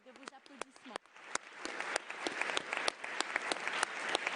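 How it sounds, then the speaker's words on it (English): Summit audience at the United Nations in Geneva clapping: a voice speaks briefly at first, then scattered claps thicken into sustained, fairly loud applause that keeps building to the end. "I would like a round of applause for them because they're with us online."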